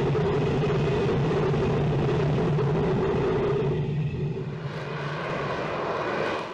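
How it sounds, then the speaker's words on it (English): A fixed-wing military jet, an F-35B fighter, roars steadily overhead as a loud continuous engine rumble that eases slightly near the end, with no voices. "The F-35B variant uniquely enables short takeoff and vertical landing, allowing operation from diverse surfaces"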